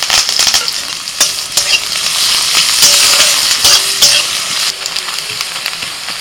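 Chopped onion and curry leaves hit hot mustard oil with whole cumin, bursting into a loud, steady sizzle with sharp crackles and pops, close by and with no voices.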